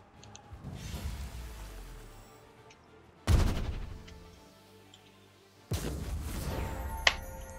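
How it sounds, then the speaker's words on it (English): A magic missiles spell cast in the video game Pathfinder: Wrath of the Righteous gives sharp bursts with crackling tails, two strong hits standing out over a soft, steady hum, with no talk. "Let's do some magic missiles."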